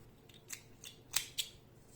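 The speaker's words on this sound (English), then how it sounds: "making 1 chain and cutting the yarn" Scissors snipping crochet yarn, a few quick close blade clicks with two sharper cuts near the end, alone in a quiet room.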